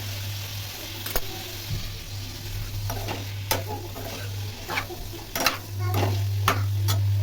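Tomatoes going into a sautéed mixture for a quick paneer gravy, loud steady sizzling in the pan with scattered stirring clicks and scrapes, close and continuous.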